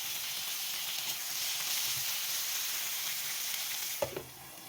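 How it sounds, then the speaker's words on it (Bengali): Tomatoes and a few garlic cloves fry in a little oil in a pan, giving a steady close sizzle throughout and ending in a brief clatter. "সামান্য একটু তেল দিয়ে এর মধ্যে টমেটো আর কয়েক কোয়া রসুন দিয়ে দিচ্ছি। সবগুলোকে এখন আমি হালকা একটু ভেজে নিব।"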